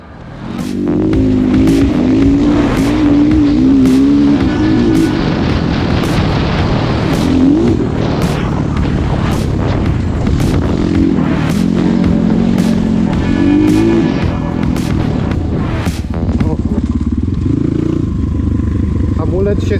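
A motorcycle engine roars at close range as the bike accelerates hard toward 100 km/h, rising revs broken by repeated gear shifts with sharp pops, loud and continuous, with wind noise and a rider talking over it.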